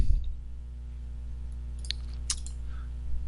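A couple of sharp computer mouse clicks, close and crisp, heard over a steady low hum with no talking, as text is selected in logo design software.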